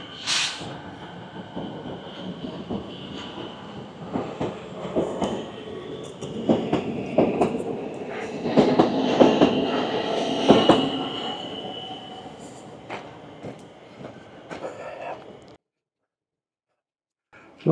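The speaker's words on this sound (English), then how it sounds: "We'll follow that train." A train rolls past on a railway track between Newport and Seddon, Melbourne, with rumbling wheels, rhythmic clatter and occasional squeals, growing louder mid-pass before cutting off near the end.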